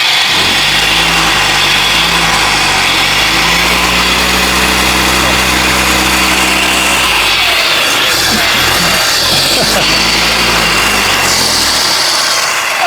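A Honda CG Titan motorcycle fitted with a Makita marble saw motor runs loud and close, holding a steady whining drone with shifting tone before it cuts into a rougher, unsteady rattle and whir toward the end.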